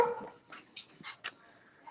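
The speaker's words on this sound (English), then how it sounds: "That's my dog." A dog indoors lets out a few faint, short yips and barks, spaced about a quarter second apart, low in the background.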